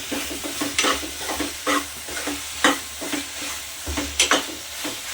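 Garam masala being stirred into dal khichdi in a pan, with repeated scraping spoon strokes over a soft simmering sizzle, close and steady, with no voices.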